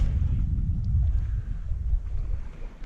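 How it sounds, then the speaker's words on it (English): Strong wind at sea on a boat near a headland gives a steady, deep roar and buffets the microphone without a break. There is no talking. "I was not expecting this much wind."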